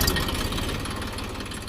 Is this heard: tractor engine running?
yes